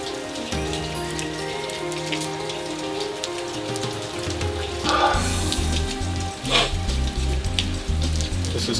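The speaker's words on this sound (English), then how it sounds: "as the rains end here in Sedona" Steady rain pours down in Sedona, a dense continuous patter on surfaces with a constant hum underneath and a few louder gusts of splashing toward the end.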